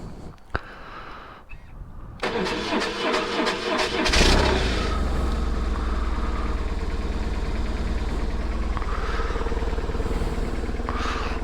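A motorcycle engine is started and then runs at a steady idle close by, a loud constant rumble that continues to the end after a few mechanical clicks at the start.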